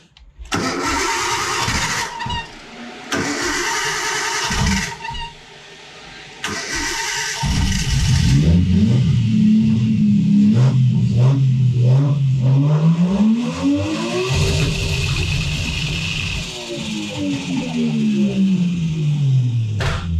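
A loud, modified Nissan RB car engine cranks and catches in short bursts, then roars into repeated aggressive revs with rising and falling pitch, close by.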